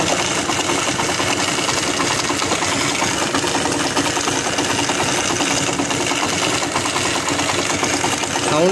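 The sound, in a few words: motorcycle engine idling with abnormal noise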